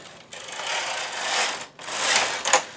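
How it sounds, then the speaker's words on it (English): A knitting machine carriage pushed across the needle bed, a steady close mechanical rattling whir that sweeps along for over a second, pauses briefly, then runs again with a final clack. "the machine goes across, it brings needles out, it pushes needles back"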